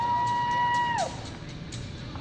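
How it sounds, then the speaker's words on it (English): Crowd cheering at the 2018 King of the Motos motorcycle race, a distant, diffuse wash of cheers and shouts under steady outdoor noise, with a whistle-like tone that slides downward and fades about a second in. "He's hearing the cheers now."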